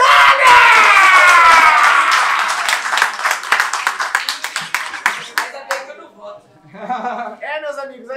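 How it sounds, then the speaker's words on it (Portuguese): A crowd claps and cheers after a rap battle final, loud and dense at first, then thinning into scattered claps while voices and shouts rise toward the end. "Palmas pra essa batalha!"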